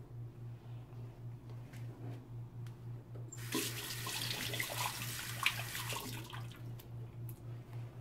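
Water from an open bathroom tap splashes steadily into a sink during shaving, quiet at first and then a louder gush for a few seconds before easing back, with a low rhythmic hum underneath.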